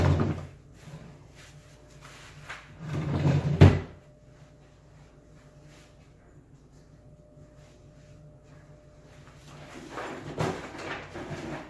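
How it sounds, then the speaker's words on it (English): Rummaging in a box in a workshop: scattered clunks, knocks and shuffling of objects come in bursts, the loudest near the start, then a long quieter stretch before more handling noise at the end. "I'm going to dig in a box here for a second"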